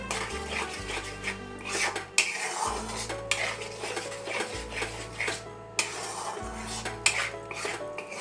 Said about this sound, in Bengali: এটাকে এবার মিক্স করব কাজু কিশমিশটাকে।